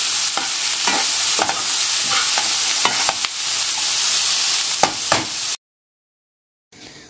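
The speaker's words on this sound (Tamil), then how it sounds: "இது வந்து தக்காளி நல்லா மேஷ் ஆகிற அளவுக்கு வதக்கிக்கலாம்." Tomatoes and onions are stirred and sautéed in a pan, with a constant close frying hiss and repeated scraping strokes of a spoon. The sound cuts to silence near the end, then resumes briefly.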